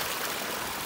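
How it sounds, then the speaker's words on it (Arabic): Water pours steadily from the filter outlet of a rectangular concrete tilapia tank, a close, continuous broadband rush and trickle with no breaks and no voices. "وهذا الماء الجاي بعد الفلتر"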